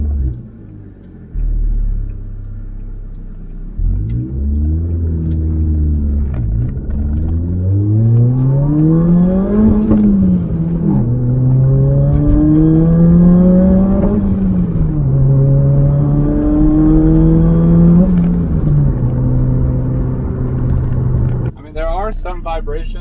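Turbocharged Toyota Corolla being driven, heard from inside as a loud engine drone that climbs in pitch through several gears, dipping at each shift, with steady road rumble beneath.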